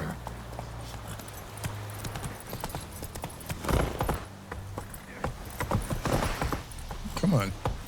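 Roach the horse in The Witcher 3 trotting, steady hoofbeats with close clip-clop rhythm continuing throughout, a game character's voice speaking over the steps.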